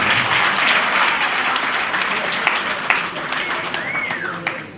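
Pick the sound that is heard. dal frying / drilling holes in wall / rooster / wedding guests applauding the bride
wedding guests applauding the bride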